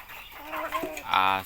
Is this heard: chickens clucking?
yes